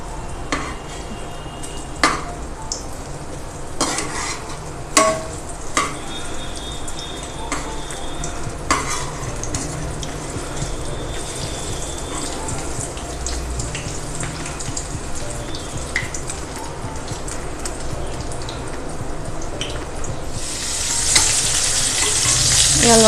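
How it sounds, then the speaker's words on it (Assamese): A spatula stirs potol chicken curry in a sizzling frying pan, with steady frying hiss and repeated sharp scrapes and knocks against the pan, and a louder rush of sizzle toward the end. "লাহেকৈ মই এলুটি কৰি দিম এতিয়া।"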